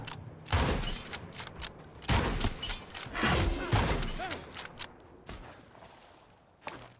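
Several heavy gunshots with booming tails and rumbling impacts sound from a slow-reloading gun in the video game Nightingale, fired in a fight against a giant, spaced unevenly over a few seconds.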